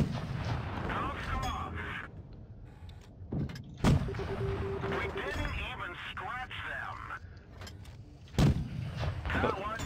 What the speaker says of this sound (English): Get a good barrage of shots on them.